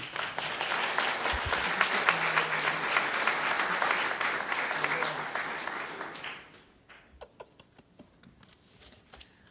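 Sustained audience applause greets a speaker arriving at a civil rights and Black LGBT rights conference session, dense and steady for about six seconds before thinning to scattered claps and quiet room noise.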